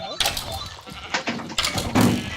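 Sheep bleating on a sheep farm in a Minecraft SkyBlock underground area, several short, clear bleats in quick succession while someone talks over them.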